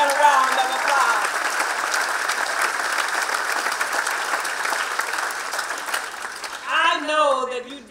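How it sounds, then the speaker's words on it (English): A graduating class claps loudly at their graduation ceremony, dense and continuous applause that fills the space, ending as a voice starts speaking over the fading clapping. "Give yourselves a high five and a round of applause."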